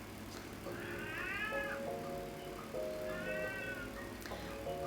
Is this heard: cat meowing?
yes